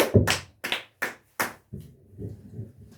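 A congregation at prayer breaks into a few bursts of clapping, four sharp rounds in quick succession followed by softer scattered hand sounds.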